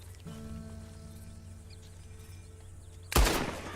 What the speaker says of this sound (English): Just shoot the shackles. One bullet, that's all.